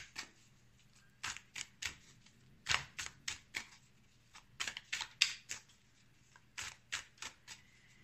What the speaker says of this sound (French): je bats mes cartes